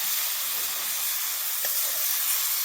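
Boiled drumstick pods dropped into a hot kadhai with onions, giving a steady, close hissing sizzle that holds evenly for a couple of seconds with no voices.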